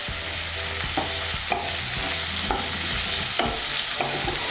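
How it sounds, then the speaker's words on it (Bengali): Chopped ginger, green chili and onion fry in a hot pan, a steady loud sizzle with regular scraping stirs every second or so, no voices. "আদা কুচি আর পেঁয়াজ কুচিটাকে আমি একটু ভালো করে ভেজে নেব"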